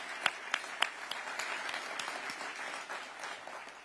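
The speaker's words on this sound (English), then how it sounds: "So please give one more round of applause for our mayor." An audience at an outdoor ribbon-cutting for a university Capitol campus applauds the mayor, opening with a few sharp close claps before settling into moderate, fairly distant clapping.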